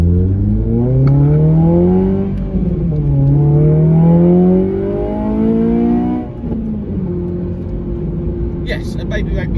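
A Honda Civic FN2 engine pulls up through the revs on a road drive, the pitch climbing, dropping at gear changes and climbing again, loud inside the cabin before settling to a steadier cruise.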